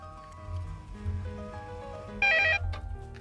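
A telephone rings once in a short electronic burst inside a home drama scene, loud over a low background hum and soft music.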